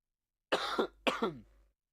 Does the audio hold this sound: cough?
yes